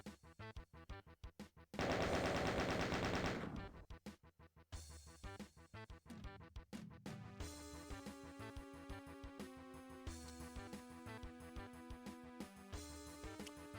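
Enemy shotguns and other weapons fire in the video game Doom, a rapid, loud string of gunshots with a brief roaring blast, then steady repeated shots over pulsing game music.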